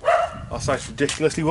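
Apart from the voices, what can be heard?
dog barking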